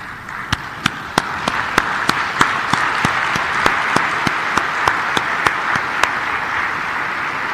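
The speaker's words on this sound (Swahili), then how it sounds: "naomba tusimame na tuwapigie makofi" A conference hall audience honouring African coffee farmers breaks into sustained applause, a dense wash of clapping with a few sharper individual claps standing out, steady and loud throughout.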